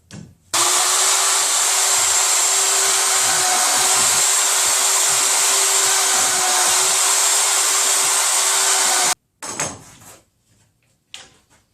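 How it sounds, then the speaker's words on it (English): A loud, continuous high-pitched drill whine runs steadily for several seconds as shelf pin holes are drilled through a jig into a wooden cabinet side, then stops, followed by brief clattering and scraping of wood. "now that I'm done drilling this side of holes"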